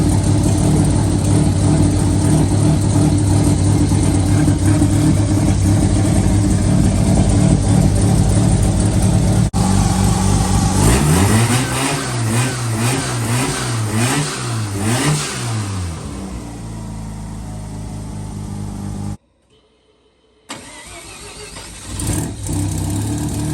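A car engine idles and then revs repeatedly in several rising and falling bursts, loud and close, before briefly cutting out and restarting.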